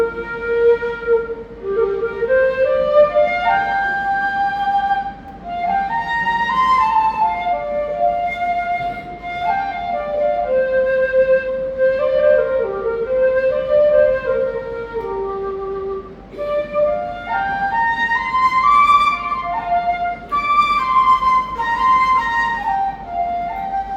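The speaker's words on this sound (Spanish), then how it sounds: "Siguiente flauta, la número 2, que es más pequeña, más en el diámetro, la misma longitud, afinado en 440 Hz en tonalidad de fa." Keyless flute number 2, narrower in bore, pitched in F and tuned to 440 Hz, plays a flowing melody of breathy sustained notes alone, close and clear.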